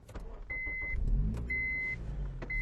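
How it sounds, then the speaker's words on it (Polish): A 2007 Honda Civic Type-R starting up, with warning chimes beeping at a steady interval before a low engine rumble rises and settles to idle, heard up close from inside the car with no talk. "Na wstępie odpalimy sobie samochód"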